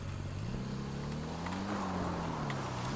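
A car engine in GTA 5 Online hums steadily, its pitch rising and falling gently as it drives along, moderately loud and without talk.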